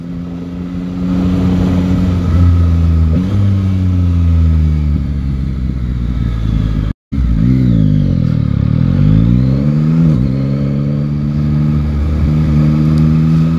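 A 2021 Yamaha MT-09 Euro5 motorcycle ridden through town, its engine loud and close, rising and falling through gear changes, with one very brief dropout midway and no talk.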